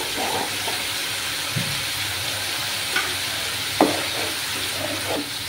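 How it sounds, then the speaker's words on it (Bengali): Coriander powder and spices sizzle steadily in hot oil in a pan for eggplant bharta, with a constant close hiss broken by a few soft scrapes of a stirring spoon. "আমি ধনে পাউডার 1 স্পুন দিলাম। দিয়ে ভালোভাবে কষিয়ে নেব।"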